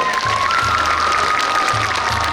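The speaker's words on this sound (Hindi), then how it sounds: "तो आइए जयपुर एक बार जोरदार तालियों से इन वीर योद्धाओं का अभिवादन करें।" Loud, sustained applause and cheering from a large crowd in Jaipur saluting soldiers at an outdoor military tribute show, dense clapping under a held tonal drone.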